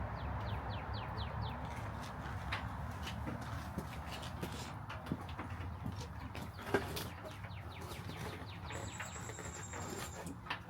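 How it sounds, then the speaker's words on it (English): Chickens cluck and birds chirp outdoors in a garden by a bird feeder, a steady busy chorus of calls close by with a few sharper peeps and no talking. "And birds talking to us, they ready to eat."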